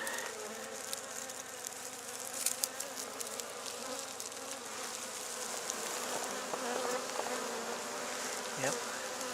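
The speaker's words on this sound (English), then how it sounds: "I'll just put the skep on its side so you can have a look inside and see the swarm." A swarm of honeybees inside a tipped-over straw skep hums steadily and densely, close by and without talk, with a few sharper buzzes as single bees fly near.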